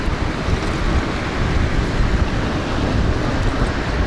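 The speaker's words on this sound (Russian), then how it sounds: "Ветер на улице." Steady, rough wind blowing outdoors, buffeting the microphone with a continuous low roar and no breaks.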